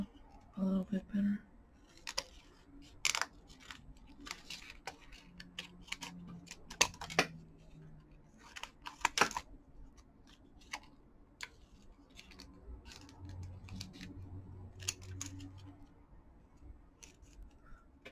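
Scissors snipping out a piece of a Popin' Cookin' candy-kit packet, giving quiet, irregular sharp clicks and crisp cuts close by, with faint talk in places.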